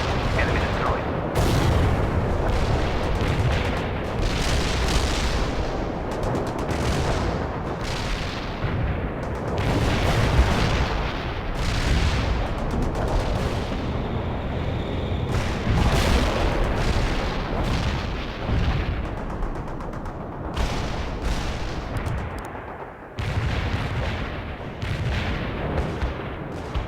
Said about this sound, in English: Commencing the barrage.